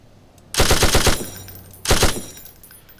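Two short automatic bursts of gunfire at radioactive, self-replicating melons in a video game, each burst a rapid string of sharp, loud shots about a second long, separated by a brief pause.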